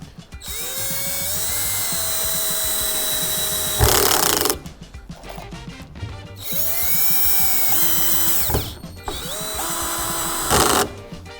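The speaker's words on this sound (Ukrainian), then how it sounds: "п'ятий саморіз, е, п'ятий режим на муфті" A cheap Dnipro-M CD-218 cordless screwdriver, clutch on setting five, drives screws into wood with long whining motor runs broken by loud ratcheting clutch bursts and short pauses, close and loud.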